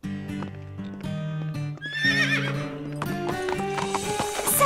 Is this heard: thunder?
no